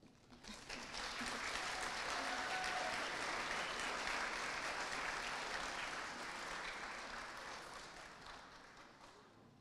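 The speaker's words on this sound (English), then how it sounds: "You can clap." A graduation audience applauds as a graduate is called for a diploma. The clapping swells within the first second, holds a full, dense roar, then slowly thins toward the end, with no speech on top.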